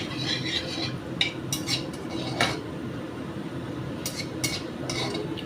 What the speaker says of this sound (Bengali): একটা তেজপাতা ছিঁড়ে দিয়ে দিলাম, দিয়ে গ্যাসটা একটু বাড়িয়ে দিলাম, দিয়ে ফোড়নটাকে নেড়ে দিলাম